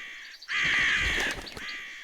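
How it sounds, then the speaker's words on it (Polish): Crows in the game Zoo 2: Animal Park give a single long, harsh caw, loud and close, over quiet background ambience. "Tutaj mamy znów te kruki, sroki, wrony."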